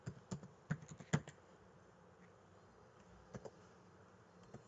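A few quick taps on a computer keyboard cluster near the start while an index value is entered into a Pandas Series, then a couple of soft, isolated keystrokes follow over quiet room tone.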